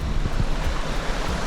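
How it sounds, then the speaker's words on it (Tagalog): A small waterfall in a clear, cold mountain stream pours with a steady broadband rush and splash, fairly close and continuous, with no voices. "Ayun o, may mini falls doon."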